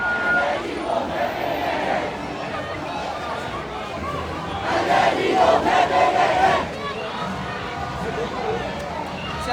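A large crowd of protesters in Yangon shouts and chants together, a loud, dense mass of voices that swells in the middle and stays continuous throughout.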